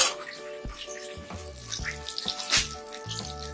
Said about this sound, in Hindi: अभी मैं इसे एक पानी से छान के निकाल लेती हूँ